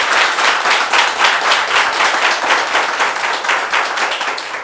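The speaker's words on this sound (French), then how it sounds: "je vais demander de s'applaudir très fort, très fort, très fort" A live audience at a French variety show applauds loudly and steadily, dense rapid clapping filling the whole stretch without a break, close and bright with no voices on top.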